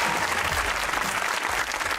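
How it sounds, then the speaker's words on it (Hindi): A studio audience at a comedy talk show breaks into sustained applause, a steady, dense wash of clapping heard alone and up close. "तालियां"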